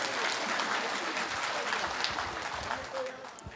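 An audience at a reception in honour of a retired chief engineer gives a speaker a round of applause, dense clapping that gradually thins out toward the end, with a faint voice in the background.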